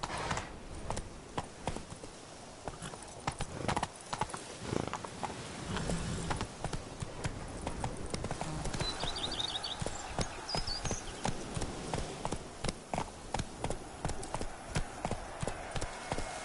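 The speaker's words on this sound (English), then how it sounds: "Run, Roach." A horse gallops in a video game, its hooves beating a quick, steady clip-clop that runs close and clear over a soft ambient game backdrop.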